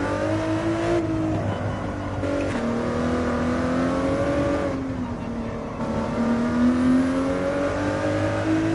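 A race car engine in a racing game set at Abu Dhabi roars close and loud, dropping on upshifts and lifts, then winding back up with rising pitch; no voices are heard.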